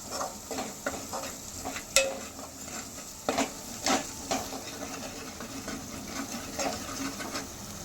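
Crab curry being stirred in a pan, with repeated scraping strokes of a spoon against the pan over a steady low sizzle, near and fairly clear, with occasional sharper clinks.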